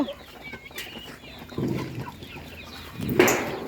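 Frizzle chickens mixed with other hens cluck in a garden yard at a grandmother's home, a few short nearby clucks and low calls over soft background sounds.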